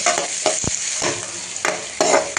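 Onions frying in oil for a chicken gravy, a steady close sizzle broken by repeated scraping stirs of a spoon against the pan at an uneven pace, with no talking.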